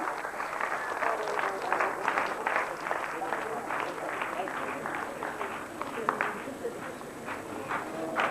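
An audience at a 1990 Jain Panchkalyanak ceremony in India gives steady applause to welcome a poet, a continuous, slightly distant patter of many hands that carries on for several seconds without a break.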